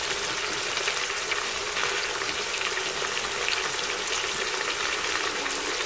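Mutton roasting in a pan gives a loud, continuous sizzle close up, steady and dense throughout. Faint stirring and scraping sound under the sizzle, and nobody speaks.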